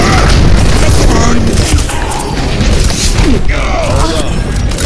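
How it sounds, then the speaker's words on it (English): Explosions from the Overwatch video game, heard as loud booms and crashes amid a dense, chaotic mix of game effects, with voices talking over the action. "I couldn't hear you over explosions"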